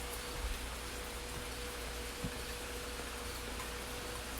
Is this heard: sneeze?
no